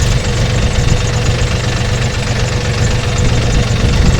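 A tractor engine runs close and loud on farmland, a constant low rumbling, knocking drone with steady vibration and no pauses or talk.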